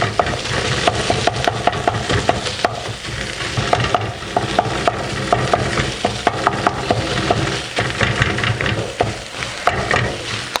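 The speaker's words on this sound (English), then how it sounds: "use my wooden spoon to mash the fish" A wooden spoon mashes and stirs cooked fish and vegetables in a pan for fish rolls, with steady scraping and soft thuds over a continuous frying sizzle, close and fairly loud throughout.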